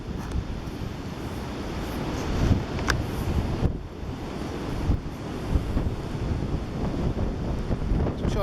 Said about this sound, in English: it's a tad bit windy out there